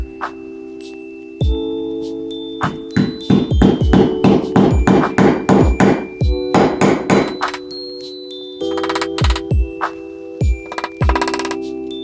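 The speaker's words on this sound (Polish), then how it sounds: "W każdy z wyznaczonych punktów delikatnie wbijamy gwózdek." Small nails are gently hammered into wood. Sharp metallic taps come in quick rhythmic runs with short pauses between nails, and a steady tonal hum sits underneath.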